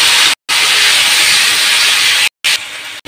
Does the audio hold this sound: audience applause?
no